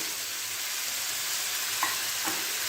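Chicken is tossed in a pan with a tablespoon of spices, Shan tikka masala and red chilli, making loud, steady, continuous sizzling with a couple of faint stirring scrapes near the end.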